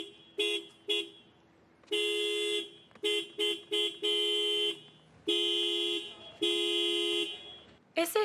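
A car horn honks in a series of loud, steady blasts of varying length, some short double toots and some held for about a second, with brief gaps between them.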